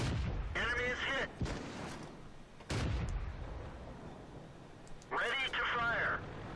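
Type 4 Chi To tank cannon in World of Tanks fires in two sharp, loud blasts a little over a second apart, with game voice callouts heard before and after.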